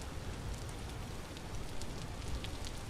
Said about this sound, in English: It's still raining almost all the time here.